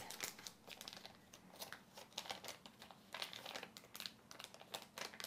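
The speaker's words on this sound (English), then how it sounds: "Then I take the bag and I open it like this." A thin plastic breast milk storage bag is pulled open by hand, giving a soft, close crinkling and rustling that crackles in short bursts throughout, quiet and alone with no talking.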